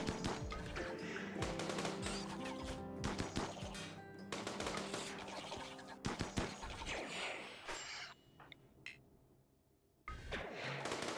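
Rapid bursts of automatic turret fire in the RimWorld video game as insects charge down a hallway, loud and dense with cracks, thuds and impacts, ending in a brief lull before more shots.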